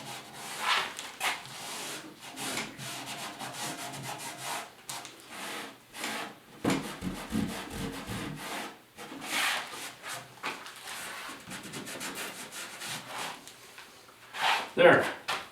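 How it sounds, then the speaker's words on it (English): Cloth rubbing back and forth over a plywood bookshelf's finish with lacquer thinner, making a steady scratchy swishing in repeated strokes, close up, with someone talking over it. "take a little bit of lacquer thinner or paint thinner or anything like that, and then you can just rub off whatever you want"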